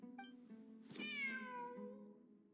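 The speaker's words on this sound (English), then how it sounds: "Wait, there it is! The cat!" A video-game cat meows once, clear and close, a single drawn-out rising-then-falling cry after a soft chirp, with no talking.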